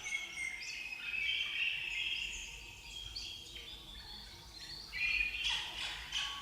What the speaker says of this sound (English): That's just birds.